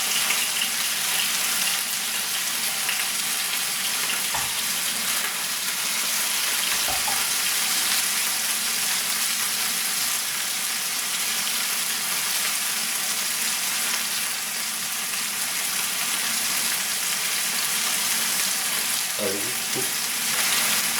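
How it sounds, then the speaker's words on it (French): Seasoned chicken pieces sear in a hot pan for a fricassée, a loud, unbroken sizzle and crackle lasting the full stretch, close up, with a few faint clinks along the way. "Je laisse bien saisir."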